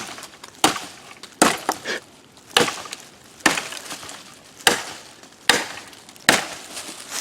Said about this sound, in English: I'm going to move over and chop this one now because I don't want to hit the ground